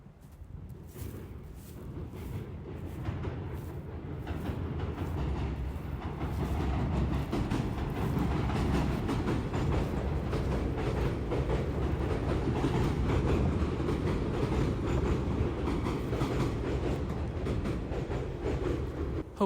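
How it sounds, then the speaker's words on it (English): Trains rolling past in Japan with a low rumble and rhythmic clickety-clack of wheels on rails, building in loudness and holding steady throughout, with no voices. "Cool trains, right?"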